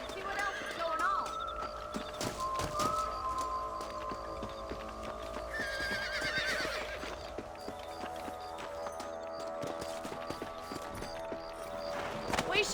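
Horses in Red Dead Redemption trot and gallop with rhythmic clip-clopping hooves, close and continuous, with neighs and whinnies breaking through and faint ambient outdoor sound underneath.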